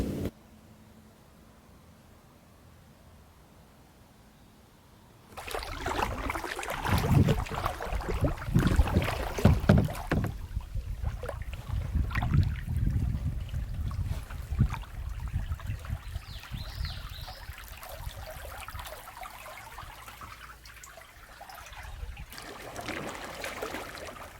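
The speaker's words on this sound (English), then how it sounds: "The river's trying to push me on my way" River water rushes and splashes around a kayak, loud and close. It starts after a quiet opening and churns steadily, with brief surges and sloshes, before easing toward the end.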